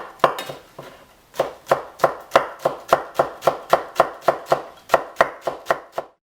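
Green onions are chopped with a knife on a board for a garnish: a quick double tap, then a steady run of about sixteen crisp, evenly spaced chops, close and loud with no talking.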